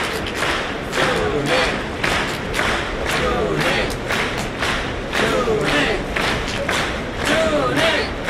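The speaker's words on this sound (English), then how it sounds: "The huge crowd was excited to watch this odd wrestling match." A large, excited crowd at a wrestling match roars steadily throughout, with rhythmic thuds and bursts of clapping and cheering rising and falling over the continuous din.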